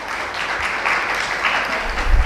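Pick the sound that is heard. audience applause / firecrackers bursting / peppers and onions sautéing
audience applause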